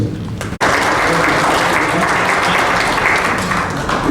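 An audience claps steadily at the end of an education event in Oaxaca, the dense applause filling the whole stretch after a brief break near the start, loud and continuous with no talk over it.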